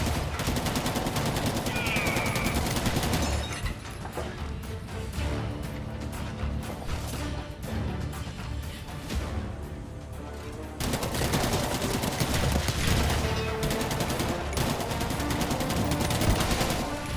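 Heavy cannon and gunfire in a Rebel Moon action scene: loud, dense volleys of rapid shots and blasts that fill the clip, pausing briefly before another burst erupts, with music underneath.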